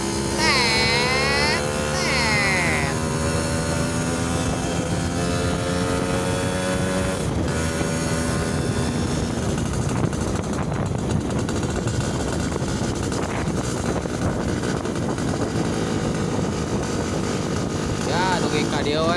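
Yamaha Alfa 150cc motorcycle on a test ride, its engine droning loudly and steadily with rising and falling harmonic sweeps as it accelerates and shifts, wind buffeting throughout.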